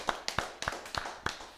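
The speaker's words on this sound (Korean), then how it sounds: "하나님께 영광의 박수 드리겠습니다." During a Sunday church service, a small group claps in a sparse, uneven rhythm of about eight sharp, close claps.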